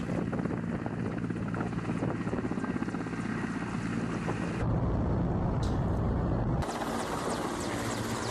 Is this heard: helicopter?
yes